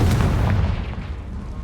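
A Confringo fire spell bursts in Hogwarts Legacy with a loud, close boom. Its deep rumble fades away over about a second and a half.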